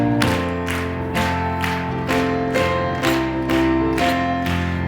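A church congregation claps in a steady beat along with a sung hymn at a New Year blessing service, rhythmic claps over sustained singing and instruments, loud and continuous.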